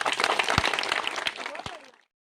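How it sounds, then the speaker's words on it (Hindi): Crowd applause at a large public celebration of Dr. B. R. Ambedkar's 133rd birth anniversary in Ambernath, a dense wash of clapping that fills the hall, then fades out with some voices mixed in. "बहुत बढ़िया, जोरदार तालियां."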